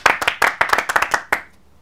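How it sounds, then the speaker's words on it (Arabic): A group of boys claps in a quick, uneven burst of about a dozen sharp hand claps over a second and a half, close and fairly loud, before it stops abruptly. "صفقوا له يا عيال"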